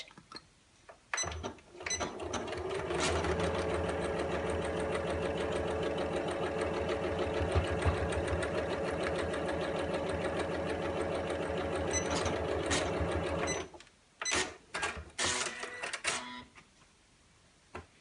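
A sewing machine stitches steadily through layered fabric and felt for a fabric storage caddy, a close continuous whirring hum lasting around eleven seconds, framed by brief starts, stops and clicking handling noises.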